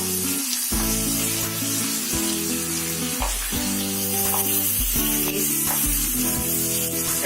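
Tomatoes sizzle and fry in a pan with onion, ginger and garlic for aloo gobhi sabzi, a steady crackle broken by stirring scrapes, with a tonal background running underneath.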